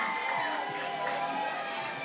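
A college homecoming football crowd in the stands makes a dense, steady roar of cheering and shouting, with broadcast commentary heard under the noise.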